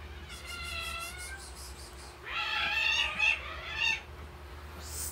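A cat meows close by, a quavering drawn-out call followed by a louder, strained caterwaul, over faint background hum.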